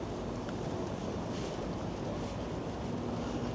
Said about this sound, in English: And a slight wind, making it feel a bit cooler.